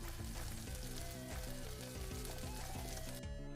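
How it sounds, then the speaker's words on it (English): Dense, steady hiss and patter resembling rain falling on a surface, continuous and close, with a faint rhythmic tonal pattern underneath that cuts off near the end. "That sounds like rain."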